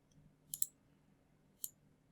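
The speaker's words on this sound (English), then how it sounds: "golf ball hit" A golf ball struck by a club, as a sound effect: two faint, sharp high clicks. The first lands as a quick double tick and the second comes about a second later, over a quiet background with no talking.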